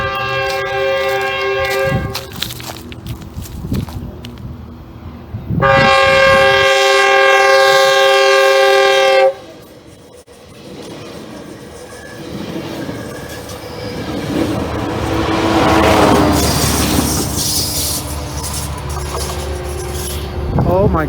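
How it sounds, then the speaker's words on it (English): Train passing close by, a loud sustained horn blast followed by rumbling wheels and clattering railcars that build and fade, with a person talking faintly at the start. "I hear a train."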